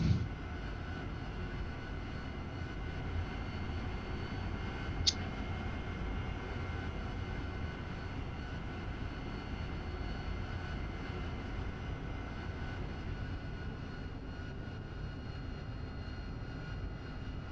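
An AV-8B Harrier jet engine in the DCS flight simulator game gives a constant, even drone that holds unchanged throughout, with one faint click partway through and no speech.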